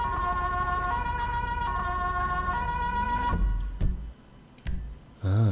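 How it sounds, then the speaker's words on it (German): Police car siren wailing in GTA 5, a steady electronic tone cycling loud and close for about three seconds before cutting off, followed by brief engine and street noise. "dann machen wir natürlich auch die Sirene an, wie die Kollegen"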